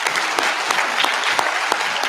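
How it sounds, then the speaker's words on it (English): An audience at a school awards night claps steadily and loudly, a dense wash of applause that keeps going throughout without a break. "So I'd like to give one more round of applause and congratulations to all of our recipients tonight."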